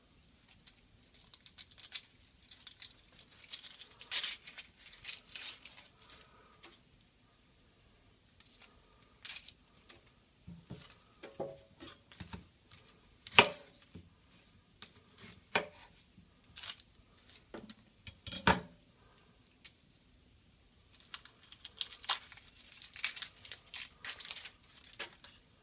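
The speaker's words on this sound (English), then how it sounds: "And then I'm going to peel off the outside layers." Papery outer layers are peeled and torn off a vegetable for turkey stock, giving scattered soft crinkles, rustles and snaps over about half a minute, close and quiet.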